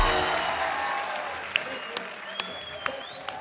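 Studio audience applause welcoming actress Sayesha on The Kapil Sharma Show, a broad wash of clapping that gradually fades, with a few sharp isolated claps near the end.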